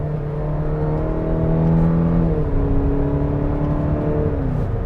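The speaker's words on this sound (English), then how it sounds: "it's a 4-cylinder, so it's not going to sound too good when you're downshifting" A 2021 Cadillac XT6 four-cylinder engine hums steadily, its pitch dropping partway through as the gear changes down, heard from inside the vehicle.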